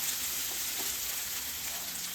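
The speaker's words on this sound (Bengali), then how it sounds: "পেঁয়াজটা ভাজা হয়ে এসেছে।" Chopped onions frying in a pan with whole spices for Bengali chicken kosha, giving a steady, close sizzle with faint crackles and no talking.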